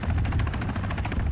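A helicopter in the military video game Arma 3 flies close and loud, its rotor giving a steady rapid chopping thump with a constant engine roar and no talk.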